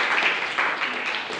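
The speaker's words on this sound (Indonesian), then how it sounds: "Tepuk tangan untuk Vivi." Brief burst of applause for a student in a classroom, dense, even clapping from a group heard close, lasting only a moment.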